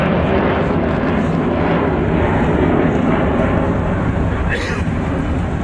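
Avro Vulcan XH558, a 60-year-old delta-wing jet bomber, flying with a steady, loud broadband engine roar and heavy wind buffeting that holds evenly throughout, with no pauses.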